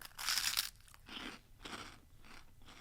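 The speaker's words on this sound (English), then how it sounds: "It's going to be very crunchy, isn't it?" Close, crisp crunching as someone bites into a large potato crisp, one loud bite followed by three quieter chewing crunches in a steady rhythm, with no talk.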